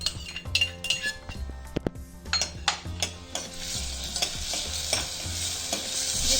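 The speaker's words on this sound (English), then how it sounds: "Just I will saute it" Tomatoes sauteing in ghee in a pan for horse gram soup, with a busy run of spoon stirring clicks and scrapes over a soft sizzle that rises toward the end, close up and with no voices.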